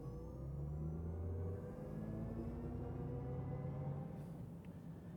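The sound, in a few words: 2024 Chevy Silverado EV RST accelerating from a standstill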